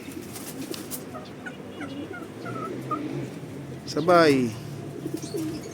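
Racing pigeons at a loft after a training flight, soft coos and a louder rolling call near the end, heard outdoors with someone talking briefly.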